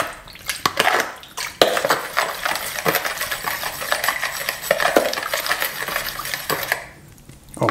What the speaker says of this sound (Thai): เราก็จะคนทุกอย่างให้มันเข้ากันเป็นเนื้อเดียวนะครับแล้วก็ให้น้ำตาลละลายด้วย